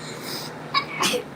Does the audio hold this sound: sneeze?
yes